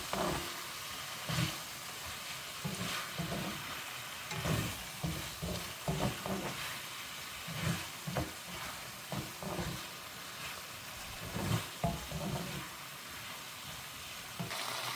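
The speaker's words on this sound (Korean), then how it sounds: "재료를 잘 섞어가며 볶아주세요" Onion and cheongyang chili being stir-fried for tofu jeyuk, with soft sizzling under intermittent scraping and stirring strokes of a utensil against the pan, moderately close.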